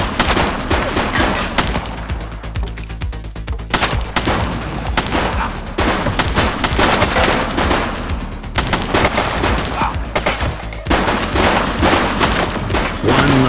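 Dense, sustained gunfire from a police video game fills the whole stretch, with rapid overlapping shots and bursts loud throughout and barely any pause.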